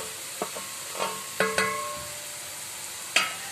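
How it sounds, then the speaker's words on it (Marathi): Grated coconut roasting with browned onion in a pan for a Malvani crab curry, soft sizzling under a few scraping stirs of a spoon, fairly close. "आता मी यात खोबरं टाकते। खोबरंही आपल्याला व्यवस्थित भाजून घ्यायचं आहे"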